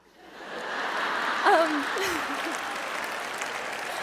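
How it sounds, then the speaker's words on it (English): Clapping from the audience at a Christmas variety show, a broad, even roar of hands that swells in and holds, with a voice briefly cutting through the middle. "Thank you for clapping for that"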